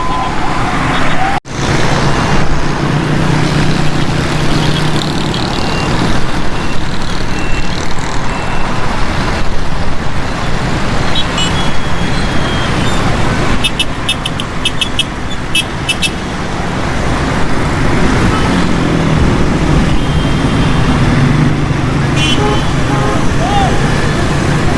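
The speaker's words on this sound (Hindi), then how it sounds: "ये शारा फैसल है और यहाँ पर जो है ना काफ़ी लोगों का हजूम है, रश है, ट्रैफिक जाम हो चुका है" Traffic jam on Shahra-e-Faisal road in Karachi, with engines idling and crawling, horns and a siren rising through a busy, loud roadside din while someone talks over it throughout.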